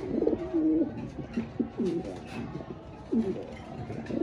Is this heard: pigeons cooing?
yes